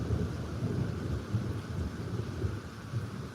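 A storm brings a steady low rumble of thunder mixed with constant rain noise, heard at a distance and fairly faint throughout, with no voices.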